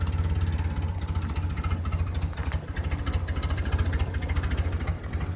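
An abandoned 1970 BMW 2002 engine idles at very low RPM, a steady, rough, pulsing rumble with a fine rhythmic chug, continuous and fairly close.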